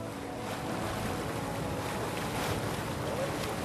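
A boat sailing on the Scheldt river, near a bend and passing over the site of an old bridge, gives off a continuous, even rush of water and engine noise with no voices.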